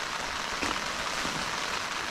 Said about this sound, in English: You hear it's rainy.